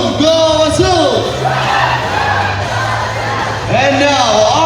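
A crowd of children at Ocean Park in Cebu chants and cheers for a team in loud, rhythmic bursts at the start and end, with a host's amplified voice leading between them.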